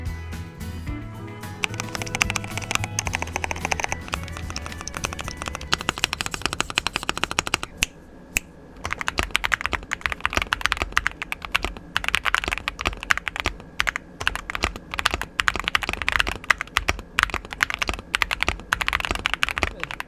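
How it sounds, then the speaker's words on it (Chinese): Close, steady typing on a Mikit M65 mechanical keyboard with pre-lubed light linear switches, clattering keystrokes in fast irregular bursts with no talk. "所以过完外观之后呢，就让我们来体验这把键盘打字声音跟手感吧。"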